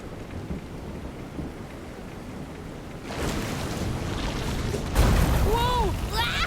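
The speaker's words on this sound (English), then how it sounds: "This is some storm." A storm in the Visions of Mana video game: steady rain that swells midway into a heavy downpour and rumbling thunder, with a voice calling over the storm near the end.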